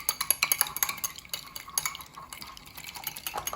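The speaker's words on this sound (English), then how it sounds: "we're going to get a bowl here with an egg. And I'm just going to whisk it up" An egg is whisked in a bowl: quick, uneven metallic clinks and tapping strokes against the bowl, close up and with no voices.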